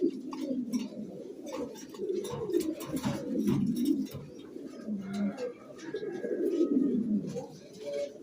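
Pigeons cooing in a pigeon loft at Narail Sadar, several overlapping soft throaty coos close by, with a voice speaking over them.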